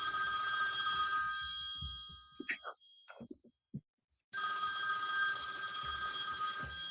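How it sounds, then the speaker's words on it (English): A telephone bell rings loudly and steadily, cuts out for a couple of seconds of faint knocks and quiet, then resumes ringing at the same strength. "I hear a phone ringing somewhere"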